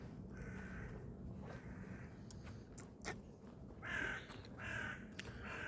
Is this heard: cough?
no